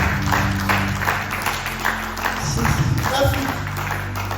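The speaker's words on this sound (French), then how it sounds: "on peut acclamer très fort pour ce Dieu-là" A church congregation applauds and cheers loudly throughout, a dense steady wash of clapping and crowd voices with speech mixed in.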